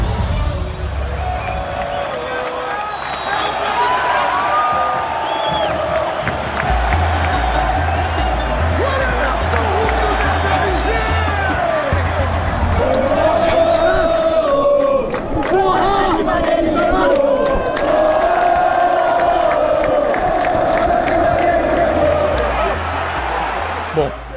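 Football supporters at the 2019 Copa Libertadores roar and chant as a loud, massed crowd, with cheering rising and swelling through the middle stretch over a steady throb of background music.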